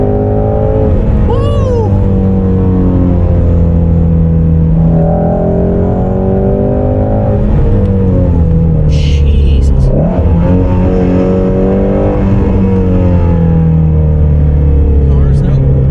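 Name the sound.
Ford Mustang Shelby GT350 engine accelerating under throttle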